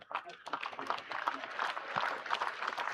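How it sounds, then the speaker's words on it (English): Cricket crowd at a Sussex versus Hampshire County Championship match applauding a well-known incoming batsman, a steady, moderate round of clapping spread across the ground with commentators talking over it. "I thought he'd get a nice round of applause."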